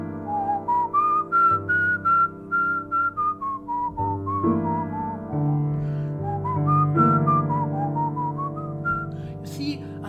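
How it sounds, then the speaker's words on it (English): A clear, close whistle running up and down through scales and arpeggios, with a sustained low tone droning underneath. "I whistle scales and arpeggio to discover how this territory feels"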